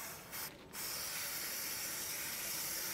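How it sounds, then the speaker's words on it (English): A close, steady hiss of aerosol chain lube sprayed onto a motorcycle chain, briefly interrupted near the start, then continuing evenly to the end. "spin the wheel with your hand and spray the lube."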